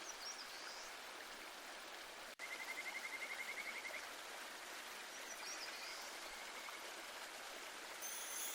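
Nachi Falls in Japan pours in a steady broadband rush of falling and streaming water, continuous and fairly distant, with a faint bird call partway through.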